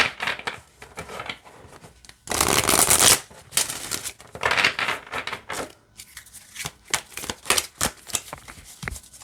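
Numerology guidance cards on standard cardstock are shuffled up close, a long loud riffle followed by a series of shorter crisp bursts and light flicks.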